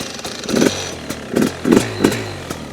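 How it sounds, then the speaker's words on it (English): A cold Rieju MR 300i two-stroke fuel-injected motorcycle engine idles low and uneven, popping and burbling in irregular bursts, close and fairly loud with no talking. "The two-stroke crisp sound."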